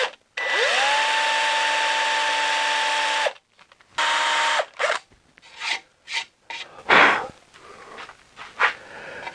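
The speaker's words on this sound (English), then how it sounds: "I drill a 1/4 inch hole, 1/4 inch deep hole, that'll be good" Power drill boring a quarter-inch-deep, quarter-inch hole into a cherry wood bowl: a loud steady whine for about three seconds, a brief second burst, then scattered scraping and knocking sounds.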